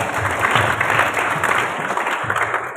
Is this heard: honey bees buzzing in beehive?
no